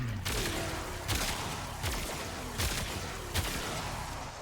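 Opticor Vandal firing in Warframe: five heavy, booming shots in a steady rhythm about three-quarters of a second apart, loud and close over a constant background rumble.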